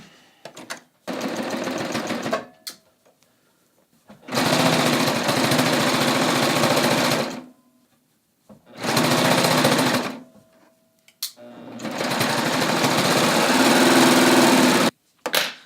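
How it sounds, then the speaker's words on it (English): A sewing machine stitches a raglan sleeve seam for a top in three long, loud bursts of steady motor whir, separated by short quiet pauses. "now I'm going to stitch this seam"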